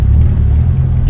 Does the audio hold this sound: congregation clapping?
no